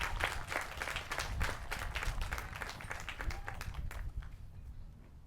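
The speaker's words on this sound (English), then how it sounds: "Let's give Miss Natalie Alfaro another round of applause" Audience at a college graduation ceremony claps in a sustained round of applause, many hands at once, fairly distant in a large space and tapering off toward the end.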